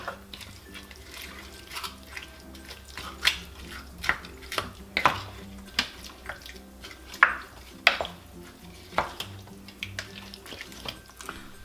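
Seasonings and a prepared mixture being stirred into chicken in a crockpot for taco bowls, giving soft wet clinks and scrapes of a utensil against the pot in an irregular rhythm, with a faint background hum and no talking.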